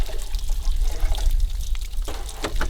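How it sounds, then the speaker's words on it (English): Water poured over stacked sapphire-sorting screens full of gravel, a steady close splashing wash that trickles and rushes continuously, with a few brighter splashes near the end. "So I'm pouring water over it, and it washes the smaller stuff down to the next size screen"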